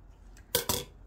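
Skirt waistband fabric snipped with scissors, two quick crisp cuts close up in a quiet room.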